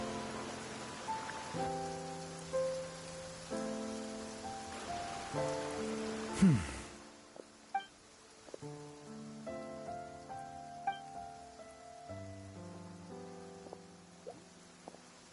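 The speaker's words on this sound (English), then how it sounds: "Don't stay out in the rain for too long." Rain falling in the video game Genshin Impact, a soft steady patter of drops on surfaces beneath a melodic game soundtrack, with a brief whooshing effect midway and a few small splashy accents.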